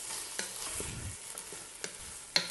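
A spoon stirs tomato paste and tomato juice in a hot pan, giving a soft, close sizzle broken by a few sharp scrapes and taps against the pan, with no voices.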